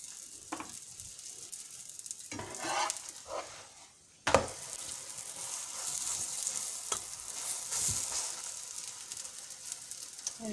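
Bread stuffed with meat and vegetables cooks in a frying pan with a soft, steady sizzle and occasional scraping clicks. The sizzle briefly drops away, then returns as a louder hiss.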